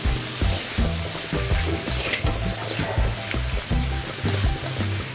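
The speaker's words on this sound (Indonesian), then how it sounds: "Aduk-aduk lagi." Carrots frying and sizzling in a pan while being stirred, a steady loud crackle with scraping and clinking of the utensil against the pan, no voices.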